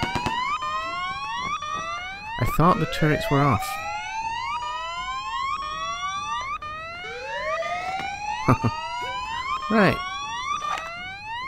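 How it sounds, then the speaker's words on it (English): Video game alarm from Dex wailing in repeated rising sweeps throughout, loud and steady, with someone talking over it at intervals. "The alarm's going"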